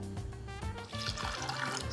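Water is poured over crushed ice for a chickpea bara dish, a continuous splashing, gurgling pour with some clattering, close and fairly loud.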